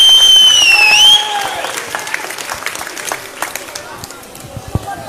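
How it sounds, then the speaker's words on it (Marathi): A rally crowd in Jat, Maharashtra breaks into sustained, dense applause right after a brief tonal sound ends, loud and close, with scattered sharper claps throughout. "त्यांच्यासाठी जोरदार टाळ्या वाजवा"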